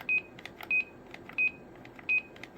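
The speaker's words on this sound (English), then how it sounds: "That's the Roger beep." Four short electronic roger beeps from a CB radio repeat at an even, quick rhythm, each a clean high tone over faint background hiss.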